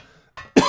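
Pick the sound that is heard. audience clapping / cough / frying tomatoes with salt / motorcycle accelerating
cough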